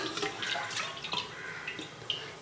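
Water is poured from a measuring cup into a cooking pot for rice in mutton biryani, a soft splashing stream in short repeated pours, fairly quiet and close, with no talking.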